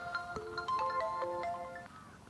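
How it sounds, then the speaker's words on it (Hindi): Mobile phone ringtone playing a short melodic electronic tune of quick notes, moderately faint and heard alone, without talking. "ये देख, आ गया उसका फोन।"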